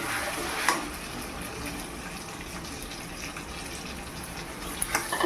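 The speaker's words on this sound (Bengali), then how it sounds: "এবার এর মধ্যে আদা, রসুন আর কাঁচা লঙ্কা পেস্টটা দিয়ে দেবো।" Ginger, garlic and green chilli paste frying with browned onions for Peshawari chicken gives a quiet, steady sizzling hiss throughout, with a few faint clinks and no talking.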